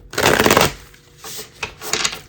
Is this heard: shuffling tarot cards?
yes